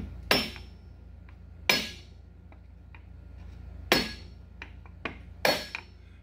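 A hammer taps a part into a Club Car golf cart motor: four sharp, ringing metallic strikes spaced about a second apart, with a few lighter taps between them, close up and with no talking.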